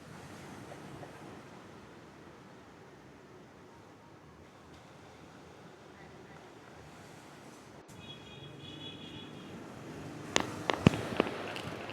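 Ocean surf washes steadily onto a beach in a continuous broadband rush with wind noise on the microphone, and a few sharp louder clicks or pops come near the end.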